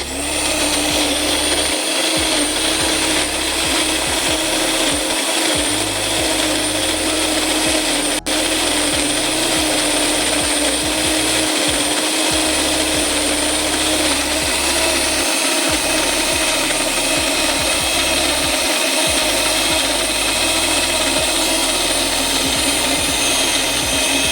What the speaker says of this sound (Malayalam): അതേ സമയത്ത് നമ്മളൊരു തക്കാളി ഈ പൊടിച്ച ഗ്രൈൻഡറിൽ തന്നെ ഗ്രൈൻഡ് ചെയ്യും.